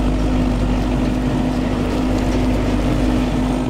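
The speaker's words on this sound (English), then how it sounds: "We're driving on a Mazzotti tractor." Mazzotti tractor engine running while driving through small crops, a loud, steady drone with a constant low hum and no talk over it.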